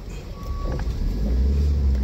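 Vehicles approach head-on along a narrow road near Dapoli, with a low engine rumble that swells steadily louder over a couple of seconds.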